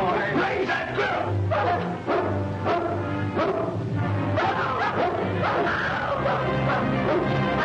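Several dogs bark and yelp in a busy, continuous burst close by, with overlapping barks and yips amid a loud, crowded scene, and voices mixed in, in a 1940 adventure film serial.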